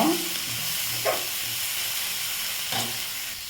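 Curry leaves and coriander leaves sautéing in oil for a cassava bonda masala give a steady, close hiss, with a few brief stirring scrapes and no talk.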